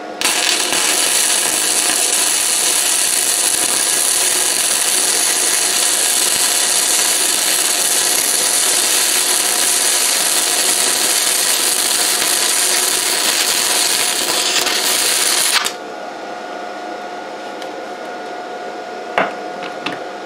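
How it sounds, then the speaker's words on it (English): A Vevor 130 amp MIG inverter welder runs a quick butt weld at about 66 amps, giving a loud, steady hiss and crackle for around fifteen seconds before stopping abruptly, leaving quiet shop background with a faint click. "let's try a quick butt weld."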